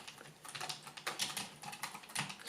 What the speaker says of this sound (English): So just typing stuff